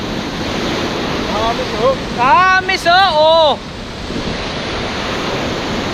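Sea waves wash steadily against Araw Beach, a constant broad roar of surf mixed with wind buffeting the microphone, while a person calls out briefly in the middle.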